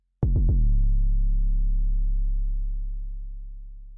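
A single deep, booming 808 bass hit with a sharp clicky attack, sustaining as a low hum and slowly fading out, dry and unprocessed.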